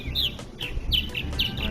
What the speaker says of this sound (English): there's the purple martins having fun, making lots of noise.